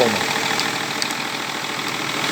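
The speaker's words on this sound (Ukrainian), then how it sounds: "Так, ну мотор тут робить, звісно, оце." A BMW E39 engine runs steadily at idle, a close, even mechanical drone with faint ticking and no speech.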